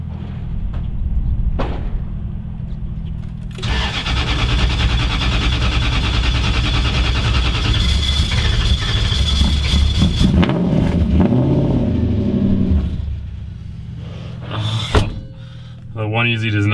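A V8 Mazda drift truck with a 1EZ engine runs in cold weather, idling loudly and steadily close by for about ten seconds, then fading, with a thunk and clatter near the end.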